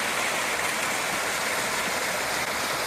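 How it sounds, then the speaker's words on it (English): Small waterfall on the Mamakating Trail in Wurtsboro Ridge State Forest, New York, a steady close hiss of falling and rushing water that holds unbroken throughout. "there is a waterfall here"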